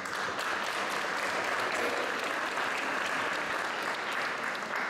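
A concert audience at a municipal Seniors' Day celebration applauds steadily. The clapping is loud, even and continuous from start to finish, and no voices rise above it.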